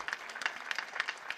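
Applause for a young mridang player at a kirtan gathering: loose, uneven hand clapping in quick bursts, moderately close and fairly soft, with no voices.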